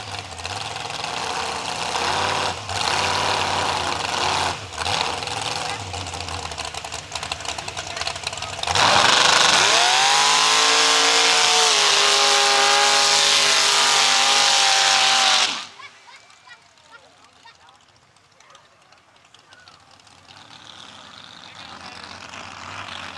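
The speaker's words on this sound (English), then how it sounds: "It's an S10 pickup there. It's fairly stock, it looks like. 38 5s for tires on it, carbureted, running race fuel." A carbureted, fairly stock S10 pickup on 38.5-inch tires and race fuel roars through a mud run, its engine revving hard and screaming at full throttle before cutting off abruptly, leaving quieter crowd and ambient noise.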